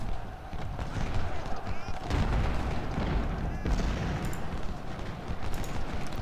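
Troops firing in the Civil War strategy game Ultimate General: Civil War, with a continuous rumble of artillery and massed gunfire at steady loudness throughout and a voice speaking over it.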